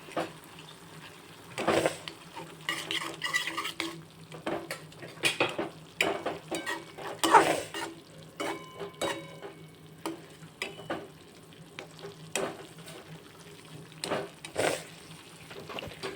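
Boiled potato pieces and mashed dal are stirred into a masala dosa filling in a pan, producing quiet, intermittent scrapes and taps of a spoon against the pan over a faint background sizzle.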